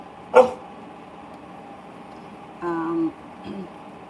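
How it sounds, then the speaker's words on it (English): A dog gives one short sharp bark up close, then a longer whining yelp and a brief final yip, each standing out against a quiet room hum. "All right, Dylan, don't bark, and I'll be right with you"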